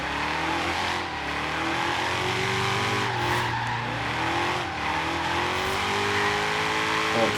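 A Shelby GT350R drifts in Forza Horizon 3, its tires squealing in long wavering wails over a steady, loud engine note held in second gear, continuous for several seconds without talk.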